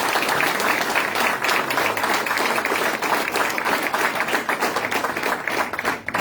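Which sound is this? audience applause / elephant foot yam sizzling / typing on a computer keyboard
audience applause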